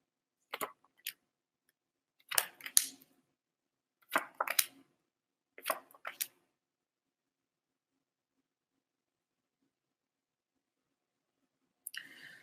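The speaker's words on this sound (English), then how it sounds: "I'm going to turn over another row of cards for Lizzo." Tarot cards being turned over one by one on a table: a few short, soft flicks and snaps spaced a second or two apart, then a long quiet pause and one last flick, close and faint.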